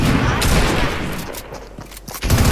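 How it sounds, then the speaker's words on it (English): Minigun fire in the Fortnite video game, a loud dense sustained burst of rapid shots that eases briefly and then surges back. "They're shooting miniguns at me."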